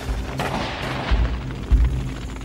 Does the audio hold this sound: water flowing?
no